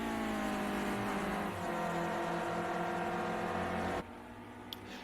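Clio Cup race cars at Spa-Francorchamps, loud steady engine drone with harmonic whine and shifting pitch through a heavy braking zone, then a sudden drop to a quieter engine hum near the end.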